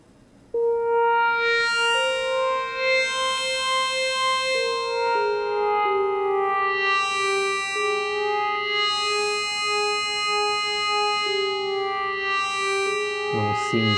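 A musical lava lamp plays sustained, droning electronic tones that glide slowly between pitches, loud and continuous with a shimmering, echoing ring and no speech.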